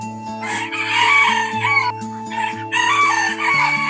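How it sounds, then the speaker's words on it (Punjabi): Free-range farm hens cluck loudly and close by after one lays an egg, a rapid, repeating run of calls going on steadily throughout. "ਅ ਚਿੱਟੀ ਮੁਰਗੀ ਨੇ ਵੀ ਆਂਡਾ ਦੇ ਦਿੱਤਾ"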